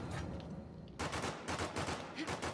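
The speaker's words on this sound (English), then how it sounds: "what are you shooting at? You can't let him know we're here" Rapid bursts of gunfire from the video game Uncharted 4, a steady chatter of repeated shots that turns loud and dense after a quieter opening, with no speech over it.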